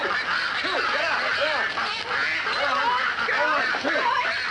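Ducks on a farm quack and honk in a dense, continuous chorus, many birds calling close by and loud, with a voice speaking over the flock.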